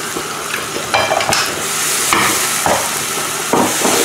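Paprika, cumin, cinnamon, garlic and pepper stirred in a hot frying pan, a steady loud sizzle with repeated scraping strokes of a utensil, close and continuous with no talking.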